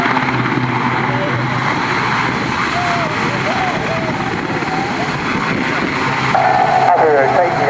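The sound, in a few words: RAF Sea King helicopter XZ587 rotating at air show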